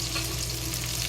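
Sausage with onion and ginger fries in a pan, giving a continuous crackling sizzle over a low steady hum, close and unbroken, with nobody speaking.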